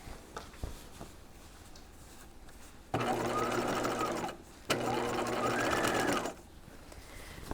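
Sewing machine understitching the facing of a jacket, running in two bursts of roughly a second and a half each, close and steady, separated by a short pause with quiet handling sounds.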